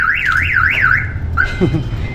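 A loud car alarm wails with a rising and falling siren tone, then switches to a steady pitch followed by a quick sequence of chirps, outdoors in northern Philippines.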